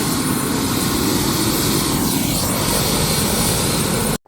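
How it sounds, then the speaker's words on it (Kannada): A helicopter waits for a joyride in Tumakuru, its engine and rotor roaring loud and close in a steady, dense wash that cuts off abruptly at the end. "Helicopter is getting ready."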